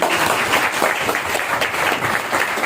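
A company gathering's audience breaks into sustained, dense applause, a loud continuous wash of many clapping hands filling the room without pause.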